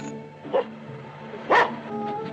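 A dog in the 1940 film The Thief of Bagdad gives two short barks, the second louder, over a steady background music bed.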